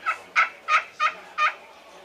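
A hunting call imitates a deep, raspy turkey hen, giving five evenly spaced yelps at close range with no talking over them.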